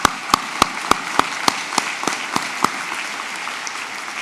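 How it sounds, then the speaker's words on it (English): Graduates at a commencement clap in a quick, evenly spaced run of about ten sharp claps that gradually soften and thin out over a faint hushed background. "Please give yourself a round of applause."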